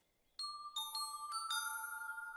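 Cartoon bell sound effect from Mickey Mouse Clubhouse: several bright, ringing bell strikes in quick succession, each layering sustained tones over the last, clear and close with no voices.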